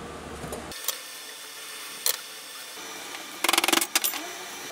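A stuck, pounded-down nut being backed off a pair of scissors with a hand tool, giving a few sharp metallic clicks and a quick burst of rapid ratcheting ticks, close and fairly quiet with no talk.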